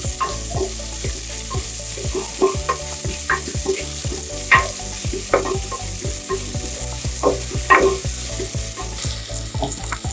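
Small onions (shallots) fry in a pan with asafoetida for Tamil marunthu kuzhambu, giving a steady close sizzle under repeated sharp scrapes and taps of a stirring spoon, with no talking.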